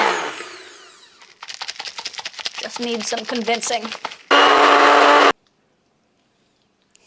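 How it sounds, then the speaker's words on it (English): A kitchen blender churns ingredients for orange-ball desserts, with rattling, choppy pulses under a brief spoken line, followed by one loud, steady whirring burst of about a second before it cuts to silence. "we're gonna use the blender"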